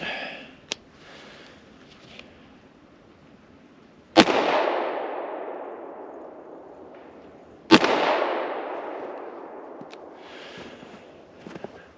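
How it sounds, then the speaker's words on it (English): A P-08 Luger pistol fires 9x19mm cartridges outdoors in sub-zero weather, two sharp loud shots a few seconds apart, each followed by a long echoing tail, with quieter clicks and handling noises between. "recoil's not bad out of a 1 pound 9-ounce pistol"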